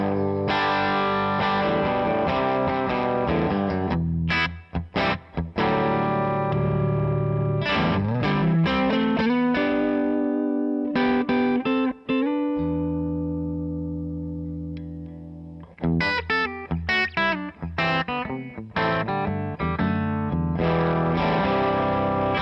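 A Gibson 335 electric guitar runs through a pedal board into an Analog Outfitter Sarge amp, playing loud, sustained, effects-laden chords and riffs with a long ringing hold near the middle.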